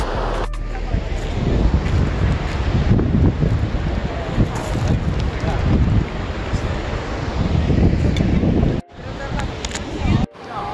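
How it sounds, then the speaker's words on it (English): Strong wind buffets the microphone beside the thundering Gullfoss waterfall in Iceland, a loud continuous roar of gusts and falling water that cuts out briefly near the end. "It's windy out here."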